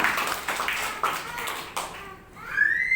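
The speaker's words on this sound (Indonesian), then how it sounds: "Tepuk tangan. Tepuk tangan." A church congregation claps in a loose burst of applause during a sermon, with scattered sharp hand strikes, mixed with voices, then fading toward a tonal sound at the end.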